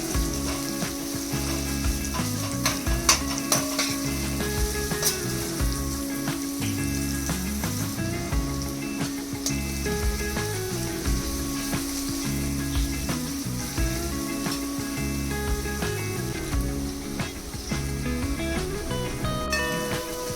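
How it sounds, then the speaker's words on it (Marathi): Onion sizzles steadily in a pan while rhythmic background music plays over it, the frying hiss constant throughout. "कढईमध्ये बारीक चिरून घेतलेला कांदा परतण्यासाठी टाकूया"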